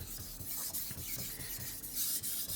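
A VG10 steel knife is worked on an Atago #1000 whetstone, giving soft, quiet, rhythmic rasping strokes at close range, repeating several times in quick succession.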